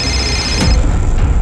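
A telephone rings once in a tense police interrogation scene, a bright electronic trill that cuts off abruptly, followed by a dull low thump and room noise.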